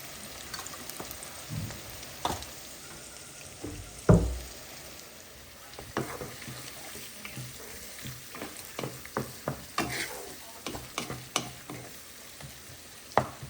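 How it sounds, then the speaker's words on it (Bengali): Ginger and garlic sizzle steadily in a hot pan. A utensil stirs them with irregular knocks and scrapes, with no talking over the cooking. "আর সাথে দিলাম আদা রসুন দিয়ে ভালো করে এটাকে নরম করে নিচ্ছি"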